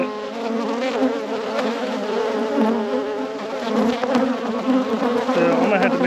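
A swarm of honeybees droning loudly and steadily at close range during a deep hive inspection after winter, a thick, continuous buzz with shifting pitches and no gaps.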